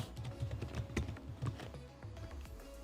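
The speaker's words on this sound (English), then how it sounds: "Just type in the title of your class" Typing a class title on a computer keyboard, a quick run of soft, close key taps in an uneven rhythm that slows toward the end.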